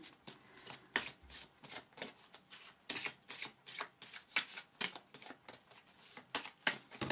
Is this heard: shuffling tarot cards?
yes